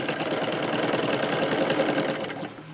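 Sewing machine stitching a tucked, lined blouse belt, running in a fast, even rhythmic chatter of needle strokes close by, then slowing and stopping near the end.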